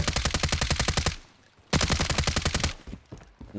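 Two rapid bursts of automatic gunfire in the video game Warzone, close and loud, each about a second long with a short pause between.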